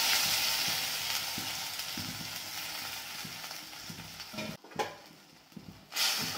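Noodles stirred in a hot pan for veg Korean noodles give a steady loud sizzle with scraping stir strokes, briefly cut and dipping before the frying hiss returns.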